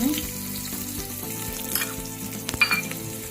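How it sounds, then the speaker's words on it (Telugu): Onion, garlic, chana dal and seeds crackle and sizzle in hot oil close up as a tempering, with a few sharp utensil clinks toward the end. "ఆనియను తాలింపు తిరుమాత గింజలు ఇవన్నీ వేగుతున్నాయి కదా"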